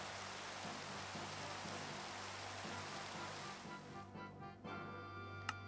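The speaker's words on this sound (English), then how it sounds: "It is raining." Steady rain falls in modded Minecraft, a dense broadband hiss with a low rhythmic hum beneath, holding constant before thinning near the end, with no talk over it.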